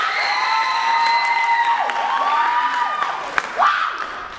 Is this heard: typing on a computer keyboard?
no